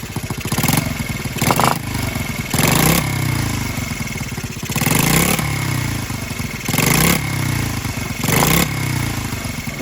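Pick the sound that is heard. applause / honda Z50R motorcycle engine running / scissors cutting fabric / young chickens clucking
honda Z50R motorcycle engine running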